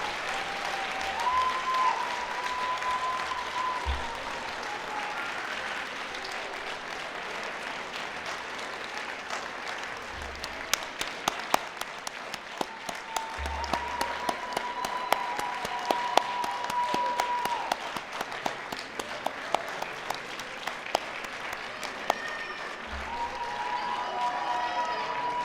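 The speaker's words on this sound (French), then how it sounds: "je vous invite à les applaudir chaleureusement" Graduates and guests applaud warmly at a university graduation ceremony of a management school, a sustained wash of clapping from a large crowd, fairly distant and even, with occasional sharper claps standing out near the middle.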